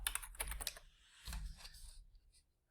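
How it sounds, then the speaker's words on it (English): Quick bursts of keystrokes on a computer keyboard as a network command is typed, close and quiet clicking that trails off into near silence. "And then we'll type in ipconfig."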